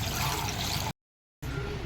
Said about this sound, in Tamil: இப்போ வந்து நம்மளுக்கு எந்த அளவுக்கு தண்ணி தேவையோ அந்த அளவுக்கு தண்ணி ஊற்றிக்கலாம்